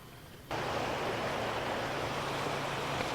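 Surf washes steadily onto a beach where the shoreline ends, a broad continuous rush of waves that swells in abruptly after a quieter half second, then holds loud and even with no talking.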